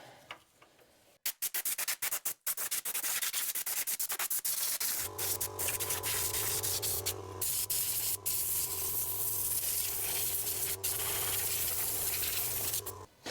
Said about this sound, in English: We're going to blow all the rubbish around here off before we take out the spark plugs.